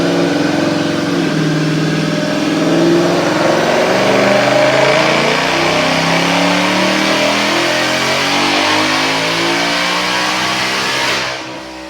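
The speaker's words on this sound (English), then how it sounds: "Check out this dyno pull." A 2021 Mustang GT with a Whipple supercharger and automatic transmission makes a full dyno pull, its loud engine note sweeping steadily upward for about eleven seconds before cutting off abruptly.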